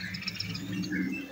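Caged songbirds in a Tangerang bird shop chirp and twitter in quick, overlapping bursts, fairly faint over a low background hum, with no talking.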